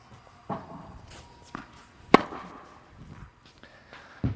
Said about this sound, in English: I just hit a shot, as I'm just hitting some casual forehands here with good confidence